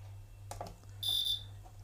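A process timer sounds a short electronic buzzer tone as it steps through a programmed sequence, a single steady high beep of about a third of a second over a low constant hum, preceded by faint handling noise.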